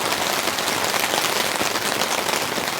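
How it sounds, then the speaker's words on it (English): Steady rain falls on a tent while camping in heavy weather, a dense, even hiss across the whole stretch with no voices and no letup. "We've got pretty steady rain now."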